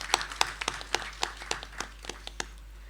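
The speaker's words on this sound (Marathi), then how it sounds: "अशा हसऱ्या आणि जे हसतात ते जिंकतात असं म्हणणाऱ्या वैजयंती घारपुरे यांच्यासाठी एकदा जोरदार टाळ्या" Audience members at a stage reading performance clap for a reader, a brisk string of crisp, close hand claps that gradually thin out.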